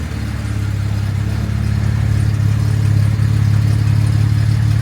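Jaguar MKII engine idling with untuned carburetors running rich, a loud, steady, close-up low rumble that firms up slightly after the first half-second and then holds even.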